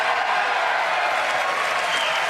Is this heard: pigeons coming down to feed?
no